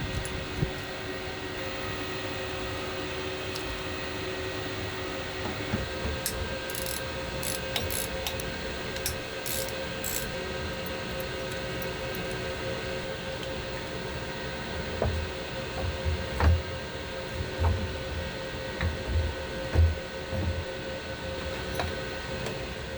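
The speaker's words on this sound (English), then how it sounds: "hopefully just unbolt the motor here and see if I can just lift it right out" A ratchet wrench clicks steadily while unbolting the electric motor of a wooden sailboat's hybrid system, close up in a cramped space with metallic knocks and irregular mechanical clatter throughout.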